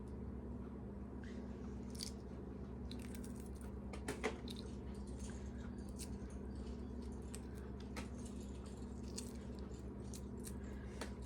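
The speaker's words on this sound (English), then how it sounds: "Looks like they are peeling pretty nice." Shells being peeled off week-old hard-boiled eggs by hand, giving faint crackles, small crunches and soft squishy picks scattered irregularly over a low background hum, close by and quiet, with no talking.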